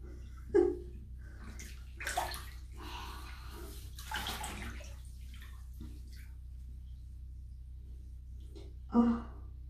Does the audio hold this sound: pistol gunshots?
no